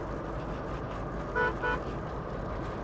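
Two short car horn toots from a Mitsubishi Pajero sound in quick succession over a steady low traffic hum.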